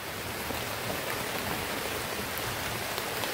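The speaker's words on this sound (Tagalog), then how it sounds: "Dito dong, kusong ulan na dong." Heavy rain pours down in a dense, steady wash of noise that fills the scene, loud and unbroken, with no voices over it.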